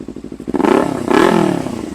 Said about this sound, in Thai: ผมอันนี้เดี๋ยวลองเบิ้ลเบิ้ลรอบสักห้าพันก่อน